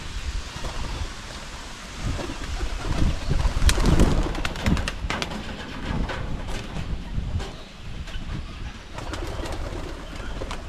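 Domestic pigeons coo softly at close range against a rumbling, noisy background of what sounds like rain and distant thunder, with no one talking.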